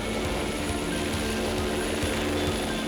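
Steady, loud rotor and engine roar of a nearby police air support helicopter, a constant broadband drone with low throbbing pulses throughout.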